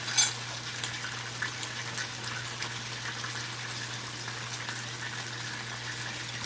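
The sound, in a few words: escovitch fish frying in hot oil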